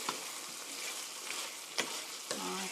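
Chicken and tomato pieces stir-fry in a pan with a steady broadband sizzle, broken by a few sharp spatula scrapes and clacks near the end.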